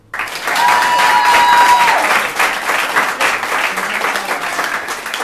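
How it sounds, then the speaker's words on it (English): An audience at a Speechless comedy show breaks into loud, sustained applause that swells quickly and holds steady before thinning slightly, with faint crowd voices mixed in. "clap"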